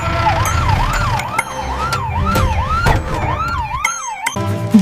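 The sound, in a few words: ambulance siren arriving at hospital gate in a 3D animation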